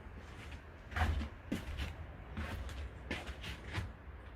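A pet fox squeaking in a series of short, creaky squeals spaced about half a second to a second apart, close by and fairly quiet, with no talk over it.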